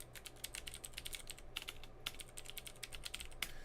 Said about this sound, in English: And I'll type it right here in the chat.